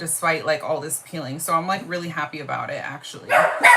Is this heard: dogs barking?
yes